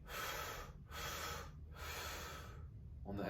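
Forceful breaths during a pressure-management breathing exercise, three or four long airy rushes of breath through the mouth, each separated by a short pause, close and fairly quiet.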